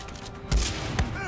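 A sniper rifle fires in the video game Far Cry 6, giving one muffled booming shot over a steady game soundscape, followed by a weaker second report.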